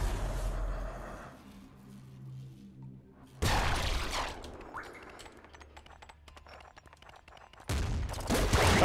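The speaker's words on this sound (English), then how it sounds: "And this is a plasma cannon shot" Plasma cannon shots in the video game Nuclear Throne: three loud, broadband blasts spaced a few seconds apart, with quieter crackling game sounds and a low hum between them.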